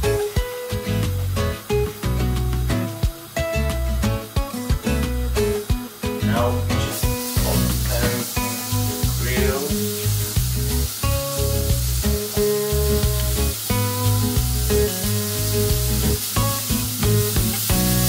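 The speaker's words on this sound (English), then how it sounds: "now the important thing with grilling vegetables is to make sure that they're not gonna stick" Vegetables sizzling and frying in olive oil with salt on a griddle pan, a steady loud hiss with stirring and scraping clatter throughout, no talk.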